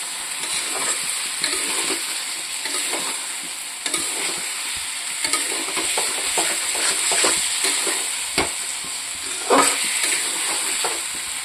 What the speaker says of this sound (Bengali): এটা এখানে এই যে ভাজা রাখা আলু ফুলকপিটা দিয়ে দেবো